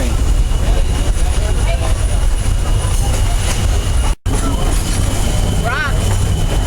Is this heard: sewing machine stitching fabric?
no